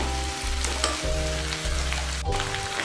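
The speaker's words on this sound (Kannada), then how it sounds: "ಶುಂಠಿ ಬೆಳ್ಳುಳ್ಳಿ ಪೇಸ್ಟ್ ಹಾಕಿ 1-2 ನಿಮಿಷ ಫ್ರೈ ಮಾಡ್ಕೊಳ್ಳಿ ಸಾಕು" Ginger garlic paste and onion frying in a pan for egg curry, a steady close sizzle with faint stirring scrapes and brief dips as the spoon moves, no voices.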